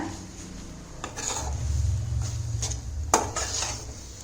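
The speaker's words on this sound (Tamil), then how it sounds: "அதே மாதிரி தாங்க நல்லா இப்படி கிளறி விட்டுட்டு நல்லா இப்படி நம்ம உதுத்து விட்டுக்கலாங்க" A spoon scraping and clinking against a pan while tomato sevai is stirred and loosened, with a low hum underneath and a few sharper metallic knocks, close by and moderately loud.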